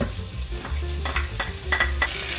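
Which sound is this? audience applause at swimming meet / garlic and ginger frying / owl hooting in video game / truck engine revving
garlic and ginger frying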